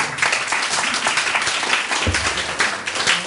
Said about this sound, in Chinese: 要掌声欢迎 Eric